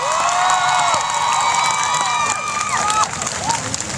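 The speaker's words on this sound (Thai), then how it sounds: "ปรบมือให้กับพี่น้องพิษุทร" A loud crowd at a Thai political rally cheers and applauds continuously, with whistles and shouting voices mixed into the dense clapping.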